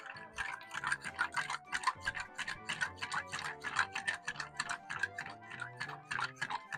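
A bar spoon stirring a Vieux Carré or Manhattan cocktail over ice in a mixing glass gives a quick, even run of light clinks and ticks, close and fairly quiet, with no voices.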